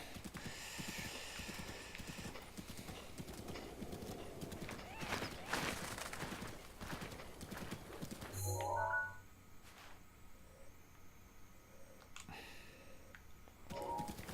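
Horse hooves clip-clop in a steady galloping rhythm in The Legend of Zelda: Breath of the Wild, with a few whinnies, loud and close at first, then quieter and sparser after a sudden drop partway through.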